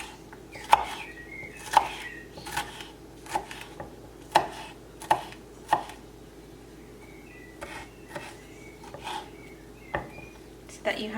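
A knife chopping pepper into small pieces on a board, a series of sharp distinct taps spaced irregularly roughly every half to one second, close and fairly loud.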